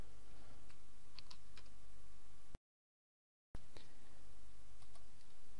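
Typing of a username and password on a computer keyboard while logging in to a WordPress blog: scattered close key clicks over steady room noise, broken by a second of silence, no talking.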